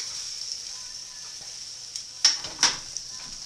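French toast slices sizzle in a hot pan with a steady high hiss, broken by a couple of sharper crackling bursts near the end, close and fairly quiet with no talking.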